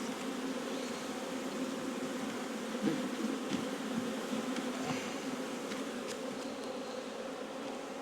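Honeybees drone steadily at an open hive in a bee yard, a continuous close buzzing hum with a few faint ticks and no voices.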